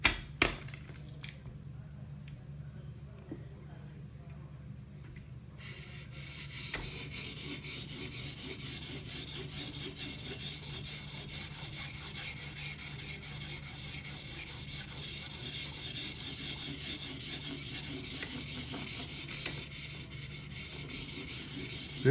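A knife burr being polished out on a sharpening stone with a guided sharpener, a steady scraping rub that starts quieter and grows denser after a few seconds, continuing evenly close by with no talk.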